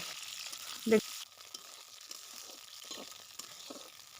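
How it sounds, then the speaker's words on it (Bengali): Pointed gourd frying in mustard oil on a clay stove gives a soft, continuous sizzle, broken by a single louder clink near the start and faint scraping stirs afterward. "দেখেন একটু পটলগুলোকে ভেজে নিচ্ছি।"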